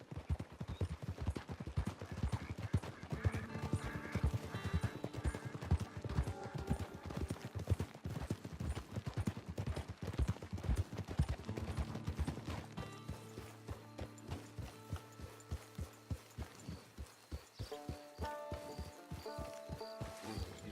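Horse hooves clip-clopping steadily in the Western video game Red Dead Redemption Online, a continuous rhythmic trot under music and ambient game sound, without speech.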